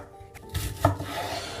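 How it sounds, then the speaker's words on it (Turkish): A knife slices red or white onion thinly on a board, a couple of soft, quick cuts with a light scraping rub, close and alone. "İster kırmızı, ister beyaz soğan. Piyazlık şekilde doğra, ince ince."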